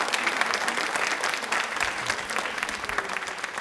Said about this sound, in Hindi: एक बार तालियां जोरदार हो जाए इनके लिए।